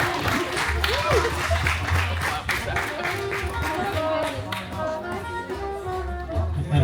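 Wedding guests at a reception applaud the best man in a dense burst of clapping that gradually thins out, with voices chatting underneath and a few cheers.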